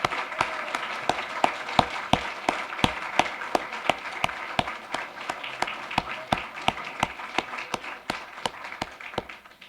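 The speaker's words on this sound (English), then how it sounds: "Let's have another round of applause for all our graduates" Steady applause from the audience at a university social work hooding ceremony for graduates, with crisp individual claps standing out over a continuous bed of clapping that holds for nearly ten seconds.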